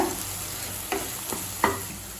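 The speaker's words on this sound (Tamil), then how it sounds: "முட்டை பாதி வெந்தவுடனே நல்லா வதக்கிக்கோங்க" Egg stir-fries in hot oil in a wok as a utensil scrapes and stirs against the pan, with a few sharp clinks and a steady crackling hiss.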